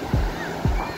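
High ocean waves wash onto the beach at Crystal Bay, Nusa Penida, Indonesia, as a loud, continuous roar of surf. A voice talks over it in short bursts.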